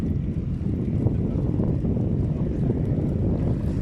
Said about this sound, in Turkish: Rüzgar da açtı.